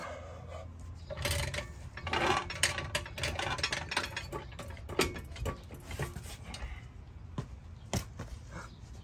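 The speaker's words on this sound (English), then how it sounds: "Start messing with the jack to get it into position." Ratcheting and scraping clicks come from a vehicle jack being worked into position under a Toyota truck during a front sway bar install, irregular and close by, with metallic rubs and short taps.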